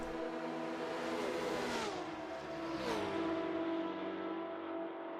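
P7000 prototype race cars roar along the Mulsanne straight at Le Mans, a loud sustained engine drone with rising and falling pitch sweeps as cars pass and shift, continuous throughout.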